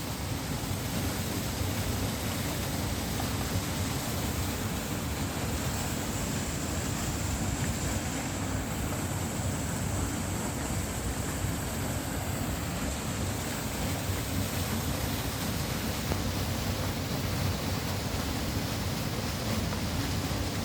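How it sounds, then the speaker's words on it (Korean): Steady, loud rushing water of Yongmun Falls near Haeinsa Temple roars without a break, a dense, even wash of sound from a nearby waterfall. "물소리 들리시나요?"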